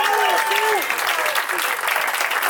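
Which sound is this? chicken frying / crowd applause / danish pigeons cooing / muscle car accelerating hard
crowd applause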